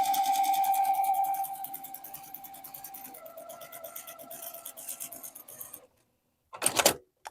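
A sewing machine stitches half square triangles in a fast, rapid run of needle strokes that slows and changes pitch, falls silent briefly, then gives one short closing burst.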